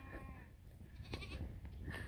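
Goats bleat faintly a few times in an open pasture on a farm, with short calls near the start and end over a low outdoor background.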